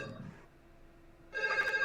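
A phone ringtone from the opening scene of the film Scream enters after a quiet pause, a bright, short electronic ring, with a voice briefly heard before it.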